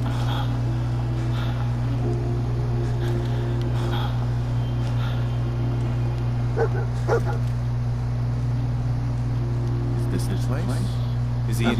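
The dog companion in Fallout 4 barks and whimpers in short bursts over a loud, constant low hum, with a voice talking quietly at times.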